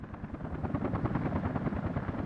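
Helicopters in the Soviet-republic city-building game Workers & Resources: Soviet Republic, a steady close rotor chop with rapid pulsing thumps, continuous and fairly loud with no voices.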